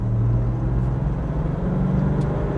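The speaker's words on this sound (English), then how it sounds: "You can hear the V8 murmuring in the background" A steady, low V8 diesel engine drone from a 2022 Toyota LandCruiser 70 Series accelerating at about 60, holds at a constant level, a deep rumbling hum with no other sounds on top.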